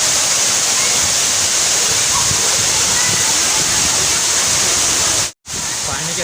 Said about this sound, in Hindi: वाटरफॉल देख सकते हैं आप, कितना अच्छा लग रहा है।